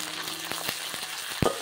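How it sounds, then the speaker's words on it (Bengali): Onion frying in a pan with ginger and garlic paste, a steady sizzle broken by a few soft stirring clicks and one sharper scrape near the end. "এরপর দিয়ে দেব আদা বাটা আর সঙ্গে দিয়ে দেব রসুন বাটা। দিয়ে ভালো করে ভেজে নেব।"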